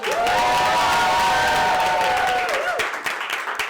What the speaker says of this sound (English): a big round of applause for tonight's Dungeon Master, Matthias Valero!